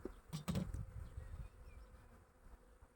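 Honeybees buzzing steadily nearby during a hive inspection, a soft continuous hum after a few brief knocks at the start.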